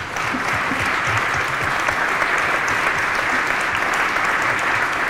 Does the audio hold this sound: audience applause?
yes